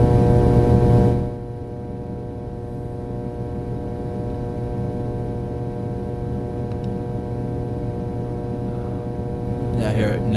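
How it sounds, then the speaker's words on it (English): An old electrical transformer that still powers part of a building gives off a steady low mains hum with faint buzzing overtones, continuous and unchanging throughout, with a brief louder rustle at the start and end. "it's an actual transformer that still runs some of the power in the building"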